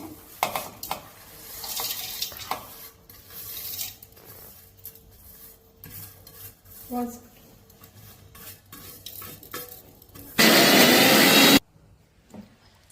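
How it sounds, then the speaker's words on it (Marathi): A mixer grinder whirs in one loud, steady burst lasting just over a second as it grinds toasted sesame, cumin and dry coconut. Before it come quieter kitchen clatter and running water. "आणि आता आपण थोडं मिक्सरमध्ये बारीक करून घ्यायचं"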